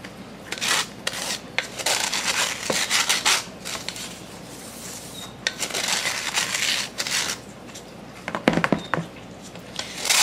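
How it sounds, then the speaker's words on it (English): Semolina is shaken and rubbed through a sieve at home, giving close, gritty rasping bursts that come in uneven clusters with short quiet gaps between them. "The semolina probably won't sift as easy."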